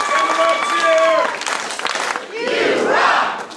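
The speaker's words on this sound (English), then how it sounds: "Give them a cheer!" A crowd at a martial arts belt ceremony lets out a loud, swelling cheer with shouts, rising after a raised voice and fading again within a couple of seconds.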